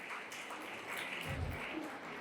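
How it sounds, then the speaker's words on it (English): Scattered applause from an audience honoring graduates at a women's college graduation ceremony, a soft, steady patter of clapping heard from a distance in a large hall. "can you please clap for them because they are awarded degrees"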